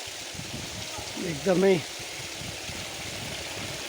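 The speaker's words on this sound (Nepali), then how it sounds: "यहाँ चाहिँ पुरै 108वटा धाराबाट पानी खसिरहेछ।" Water pours steadily from 108 stone spouts at Sarangkot, a constant moderate rush filling the whole clip while a person speaks briefly over it midway.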